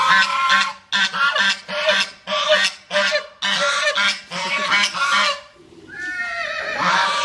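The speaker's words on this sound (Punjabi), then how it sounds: "ਬੱਤਖ ਹੈ।" A duck at a horse stud farm gives a long run of loud, close nasal honks in a steady rhythm for several seconds. After a brief pause a final trailing call follows.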